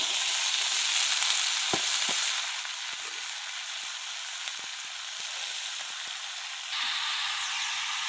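Whole cumin seeds and vegetables, with new potatoes, frying in hot oil in a pan, a steady close sizzle broken by several sharp clicks of a spoon stirring, growing a little louder near the end with no talking.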